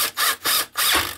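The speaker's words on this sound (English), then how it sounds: "I'm just putting a screw in" Screw driven into a shelving frame under a tiny house kitchen counter, heard as three close ratcheting bursts of mechanical clicking with short pauses between them.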